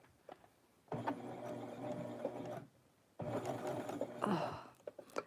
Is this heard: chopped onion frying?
no